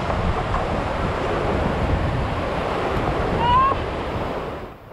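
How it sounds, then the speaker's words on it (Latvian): A rushing glacial river in the mountains of Pakistan on the K2 trek roars steadily, a loud broadband torrent with wind buffeting the microphone, easing off slightly at the end. "nokāpjot lejā pie upes, saprotam, cik tā ir bangojoša un nepārvarama"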